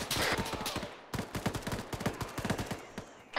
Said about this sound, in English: we're taking massive fire here